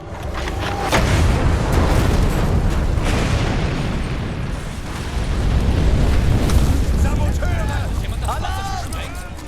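Gunfire and explosions in the video game Commandos: Origins make a loud, continuous rumbling barrage of booms and bursts, with voices and shouting mixed in toward the end.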